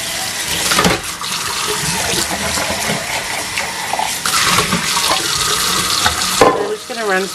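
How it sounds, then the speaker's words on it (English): Kitchen sink tap running water over beans in a strainer, a steady splashing gush close by that shifts in intensity, with a brief clatter near the end. "Run some water over them"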